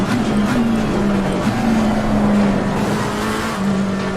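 McLaren race car engine in the video game Assetto Corsa Competizione, a steady droning hum with slight pitch shifts as the car holds speed, loud and continuous throughout.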